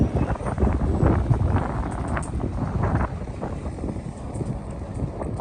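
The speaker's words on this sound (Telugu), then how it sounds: "విపరీతమైన గాలి ఉంది" Strong wind at Reagan National Airport near Washington DC, gusting and buffeting a microphone in a continuous low rumble that is loudest at first and then eases slightly.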